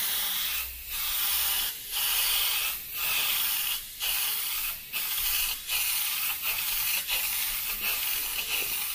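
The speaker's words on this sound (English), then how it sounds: "we're gonna go full trigger because I want full paint coverage on this part." A Harder & Steenbeck Ultra airbrush sprays black base coat at full trigger, giving a steady close airy hiss broken into about eight regular passes by brief dips.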